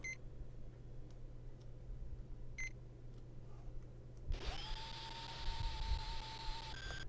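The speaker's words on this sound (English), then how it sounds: "Then drill." A surgical bone drill in the operating game Life & Death starts up partway through with a sudden steady whine that holds and then cuts off, after a few faint clicks over a constant low hum.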